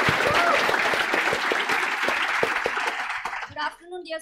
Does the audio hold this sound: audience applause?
yes